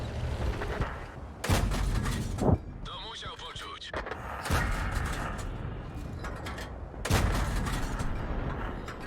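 Tank guns fire in a World of Tanks battle, several heavy booming blasts spaced apart over engine rumble and mechanical whirring, with someone talking between the shots.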